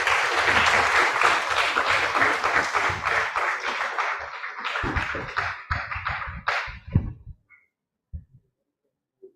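Audience applause for a prize-winning team at a conference plenary session, loud dense clapping that thins into scattered individual claps and fades out to silence over several seconds.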